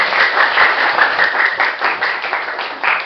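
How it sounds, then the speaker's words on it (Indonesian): A room full of people clapping steadily and fairly loudly for a few seconds, with no one speaking. "Tepuk tangan untuk kita semua."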